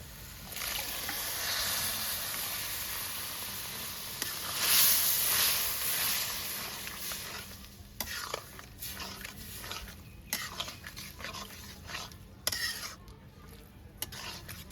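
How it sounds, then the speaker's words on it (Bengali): Boiled peas are tipped into ghugni masala and mixed, first a wet pouring rush, then irregular spoon scrapes and soft clacks against the pan, close and moderately quiet. "সিদ্ধ মটরটা ঢেলে দেবো এই যে সিদ্ধ মটরটা আমি মিশিয়ে দেবো"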